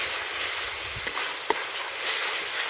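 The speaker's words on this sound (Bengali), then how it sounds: "আর একটু শুকনো লঙ্কা গুঁড়ো দিয়ে দিচ্ছি। ভালো করে কষিয়ে নিতে হবে এবার।" Dried chili powder and spices being sautéed for a village-style desi chicken curry, a steady soft sizzle of frying with a couple of brief stirring knocks, no talk.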